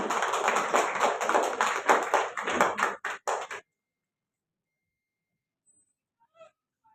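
Audience applause at a women's award ceremony, a crowd clapping loudly for about three seconds, then trailing into a few last claps before silence.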